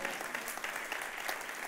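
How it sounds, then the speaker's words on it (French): A church congregation applauding, a dense patter of many hands clapping steadily throughout, fairly close and without voices over it. "Que tous ceux qui sont d'accord disent Amen et applaudissent le roi des rois."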